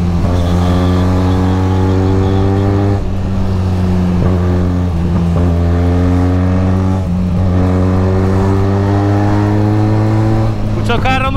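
Benelli Leoncino motorcycle accelerating on a road, its loud, steady engine drone rising in pitch through the gears with brief dips at each shift, heard from the rider's position with wind noise and someone talking over it.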